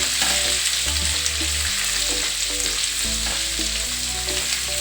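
Ginger garlic paste fries in oil on a low flame while being stirred, giving a steady close sizzle with scraping stir strokes across it and no voices.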